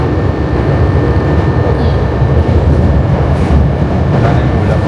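A Japanese commuter train runs between stations, giving a loud, continuous rumble and rattle of wheels on track from inside the carriage, with no talk.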